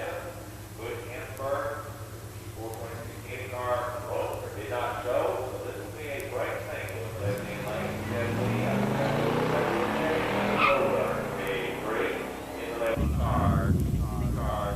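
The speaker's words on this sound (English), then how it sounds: "In the near lane, Jeff Lee's 70 Roadrunner 383 automatic draws a bye run." A 1970 Plymouth Roadrunner with a 383 engine and automatic transmission makes a drag strip run. Its engine rumbles low and steady, then swells into a roaring surge, partly under continuous announcer talk throughout.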